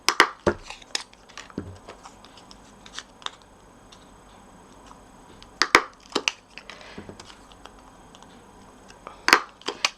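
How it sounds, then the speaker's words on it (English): A hand-held 1/4 inch circle punch pressing through paper, heard as a few sharp crisp clicks and crunches spread apart, with quiet handling noise between them. "I'm just going to punch a hole towards the top"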